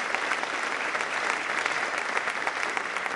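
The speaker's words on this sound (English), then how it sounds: "Let's give them a round of applause." A crowd at a political event with the Governor of New York and Long Island Senate candidates applauds, steady dense clapping that holds loud and even throughout.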